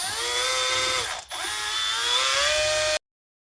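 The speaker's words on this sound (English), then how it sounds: "Just going to want to drill around the sides." A power drill with a quarter-inch bit whines steadily at close range, drilling around Jeep YJ track bar bushings, its pitch sagging under load, pausing briefly midway, then running on before cutting off abruptly.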